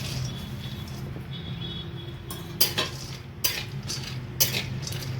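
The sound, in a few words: almonds frying and being stirred in ghee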